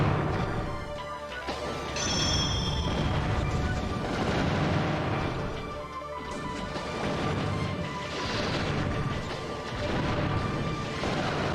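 Custom Robo combat on the GameCube brings a continuous clatter of shots, crashes and impacts in repeated bursts, loud and busy throughout, with electronic game music and effects layered underneath.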